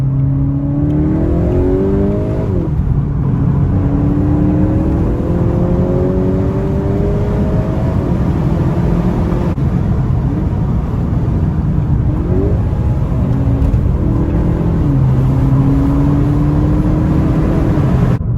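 A new Clubsport car with a turbocharged engine accelerates hard and continuously, its rising engine note climbing through the gears in repeated upward sweeps, loud and close for the whole stretch.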